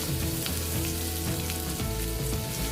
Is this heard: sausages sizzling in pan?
yes